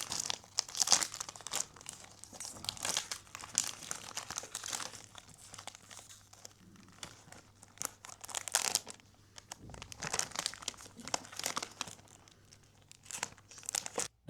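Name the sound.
unboxing a perfume bottle's packaging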